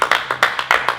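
Hands clap quickly and sharply, about six claps in close, slightly uneven succession, heard alone and nearby.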